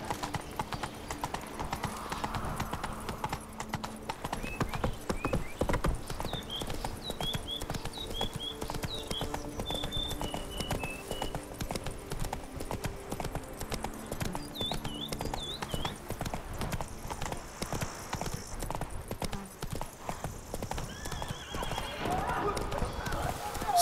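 A horse gallops in a fast, continuous clatter of hooves with neighing in The Witcher 3: Blood and Wine, in Toussaint. Game voices and music sit underneath.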